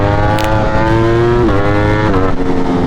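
A Ducati motorcycle ridden on back roads, its engine loud and close, droning steadily with pitch rising under throttle and a couple of quick dips as gears shift.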